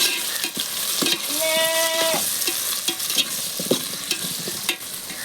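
Curry leaves, onions, green chilies and tomatoes fry and sizzle steadily in a pan while being stirred, with close, continuous crackling, scraping spoon strokes and a few clanks throughout.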